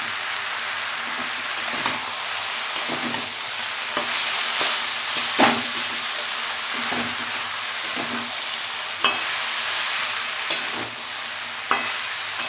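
Mixed vegetables with green chillies sautéing and being stirred in a pan, a steady close sizzle with scraping stir strokes and occasional sharper clicks from the spoon, no talking.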